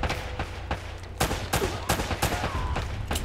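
Pistol gunfire in Uncharted: Drake's Fortune, a run of about nine sharp, close shots at an uneven, fairly quick pace over a low background rumble.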